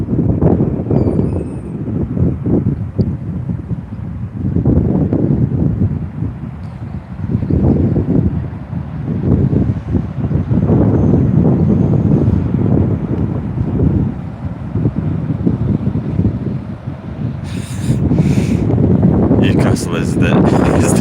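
Strong wind gusting and buffeting a phone microphone at Newcastle Airport, a loud continuous roar with some rustling and a few sharp bumps near the end.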